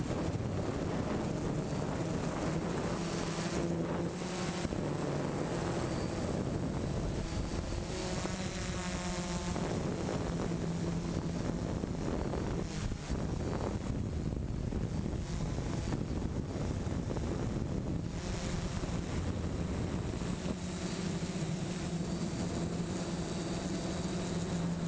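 A DJI F550 hexacopter drone flies forward, its six propellers giving a steady, loud, high-pitched buzzing whine that holds continuously with slight shifts in pitch as it moves.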